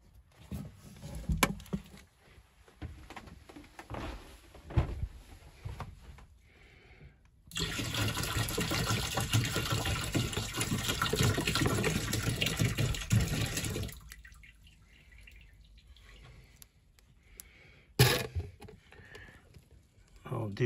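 Water poured back into a tank while descaling a household hot and cold water installation, a loud steady splashing pour lasting several seconds between quieter drips and handling noises.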